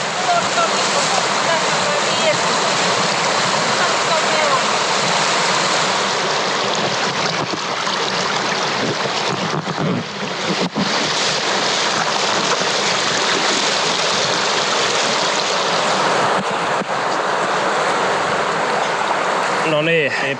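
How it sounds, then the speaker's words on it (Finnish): Loud, steady roar of river rapids on a wild northern Lapland river during a canoe trip, broadband rushing water filling the whole span with a brief dip near the middle. "No niin päästiin tän kosken alapuolelle"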